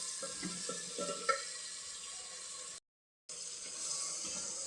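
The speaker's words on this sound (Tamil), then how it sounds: "தண்ணி ஊற்றுங்க." Steady running water pours continuously into a pot of sambar, with a brief cut to silence midway before the flow resumes, a faint clink near the start.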